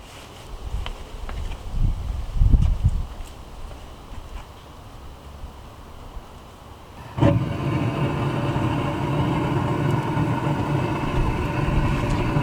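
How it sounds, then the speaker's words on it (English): A gas assist burner on a Lone Star Grillz offset smoker ignites with a sudden whoosh, then settles into a steady loud roaring rush of flame, preceded by quieter outdoor rustling and handling noises. "we're gonna fire up that gas assist and you guys will see what happens"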